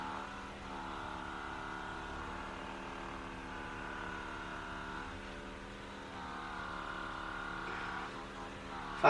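A percussive massage gun hums steadily as it works over the lats and rhomboids, giving a continuous buzzing motor drone with slight pitch shifts as pressure changes, fairly quiet and close.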